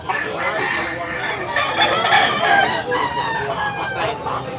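Roosters crow repeatedly and chickens cluck in a busy, close poultry yard in Tabunok, Cebu, with overlapping calls filling the scene and a voice speaking briefly at times.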